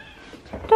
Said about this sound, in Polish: Moje kotki.